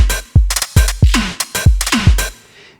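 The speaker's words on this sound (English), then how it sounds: "So I just have a drum loop today." A plain, unprocessed drum loop plays alone: a steady pattern of deep kicks and bright snare and hat hits, close and loud, with no voices.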